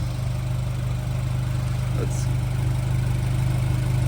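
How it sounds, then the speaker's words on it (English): A Chevy Silverado pickup fitted with a JB4 tune on map 2 idles with a steady, low, even rumble, heard close and unchanging throughout with a faint brief sound near the middle. "Let's listen to the engine."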